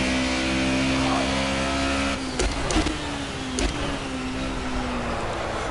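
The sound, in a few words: race car engine revving in the video game Project Cars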